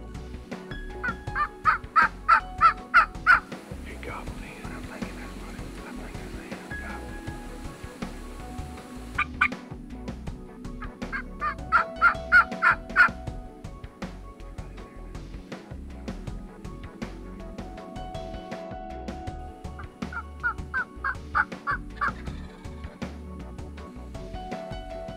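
Several bursts of wild turkey gobbling in Florida ring out at intervals, moderately distant, separated by stretches of quiet outdoor background noise.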